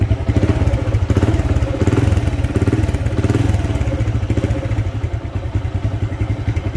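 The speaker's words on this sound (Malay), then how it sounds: "Ok fuse dah cabut Ok start, start, start the kick boleh" A Modenas GT128 motorcycle engine, kick-started with its fuse removed, runs at a steady close-up idle: a continuous rhythmic chugging thump with some mechanical clatter and no voices.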